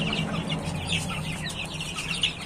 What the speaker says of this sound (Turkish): Bak şu tavuk.